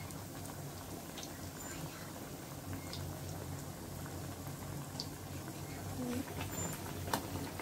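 Banana flower vadai deep-fry in sesame oil with a dense, steady bubbling crackle that stays even and close from start to finish.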